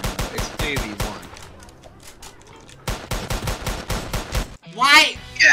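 Gunfire in the Roblox game Framed: a rapid burst of sharp shots in the first second, a quieter gap, then another run of close, regular shots, with a loud whooshing effect near the end.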